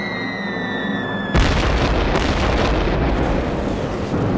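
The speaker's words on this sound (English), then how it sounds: "41 Japanese bombers blasted the island" Bombs from Japanese bombers exploding over the island in a World War II air raid, a loud sudden blast that follows a droning aircraft tone and then rumbles on as a long, dense roar.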